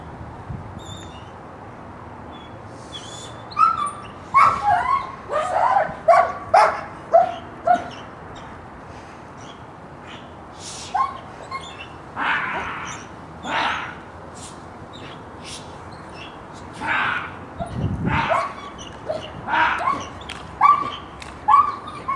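A police dog barks repeatedly during a law enforcement temperament test, loud close bursts in irregular clusters with short pauses, some sharper yips mixed in, over steady background noise.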